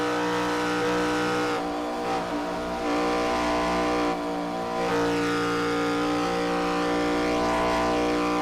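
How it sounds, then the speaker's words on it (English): An ARCA race car in iRacing at Daytona, its engine droning loud and close as the throttle is repeatedly lifted and reapplied, with brief dips in pitch amid the pack. "You hear him getting in and out of the throttle here."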